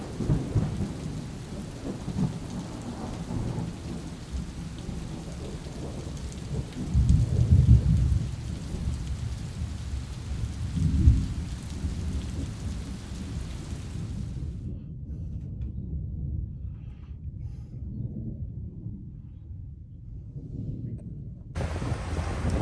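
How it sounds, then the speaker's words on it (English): Steady rain falls with low rumbles of thunder rolling through, two heavier booms standing out; partway through the hiss drops away to a quieter, muffled patter. "Call me weird, but I love a good thunderstorm."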